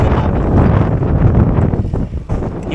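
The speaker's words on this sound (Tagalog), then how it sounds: "Grabe yung hangin, no?" Strong wind roars and buffets the microphone during a Christmas Eve road bike ride near Fushimi Inari Taisha in Japan, a loud, continuous gusting rumble that barely lets up over the full few seconds.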